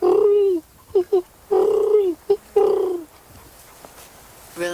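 A human voice imitates a great horned owl with deep, close hoots in a broken rhythm: a long hoot, two short ones, then two more long hoots. A faint breathy sound follows at the end.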